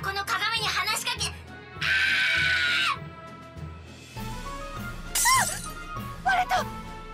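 A mirror shatters in the video game One Piece Pirate Warriors 4 with a bright burst of breaking glass, set among game sound effects, music tones and animated character voices crying out, loud and close.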